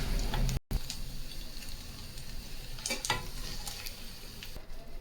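Food frying with a little turmeric in a pan, a soft, steady sizzle with occasional stirring scrapes and light clicks, close and fairly quiet, no voices over it.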